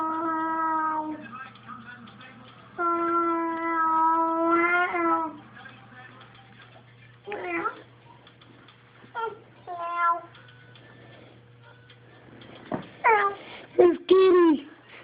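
A cat meows in a series of drawn-out and short calls with pauses in between, close and clear, against a quiet room.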